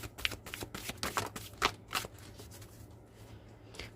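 Tarot cards are shuffled by hand in a run of crisp, riffling bursts with short pauses between them, close and fairly quiet, with no talking.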